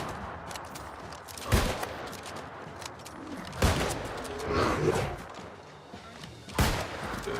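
Gunfire and a grenade blast from the video game New World Aeternum: three sharp broadband bursts, evenly spaced, ring out over a busy, dense game soundscape.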